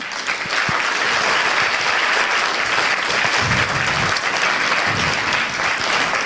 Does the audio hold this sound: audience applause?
yes